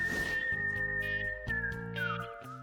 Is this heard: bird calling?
no